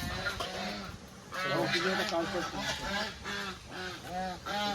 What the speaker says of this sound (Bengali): সুন্দর রাজহাঁস, রাজহাঁস না এটা, রাজহাঁস রয়েছে।